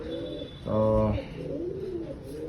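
A pigeon gives a single deep, throaty coo, close and clear, in a pigeon loft, against quiet background chatter and faint bird calls.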